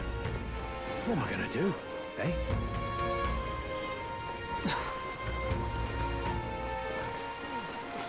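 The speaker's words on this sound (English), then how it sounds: "Rain." Rain falls in the Metaphor: ReFantazio video game, a steady soft patter running beneath spoken dialogue and layered game music.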